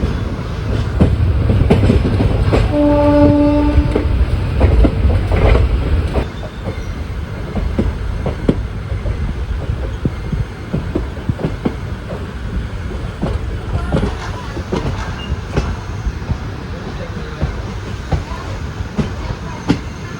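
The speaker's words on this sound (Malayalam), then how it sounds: "ഇങ്ങനെ പതുക്കെ പതുക്കെ തിരുനെൽവേലി സ്റ്റേഷനിലേക്ക് കയറിക്കൊണ്ടിരിക്കുകയാണ്" A train rolls slowly into Tirunelveli station, with a steady rumble and rhythmic clickety-clack of wheels over rail joints, a short squeal early on and a horn-like tone, heard from on board.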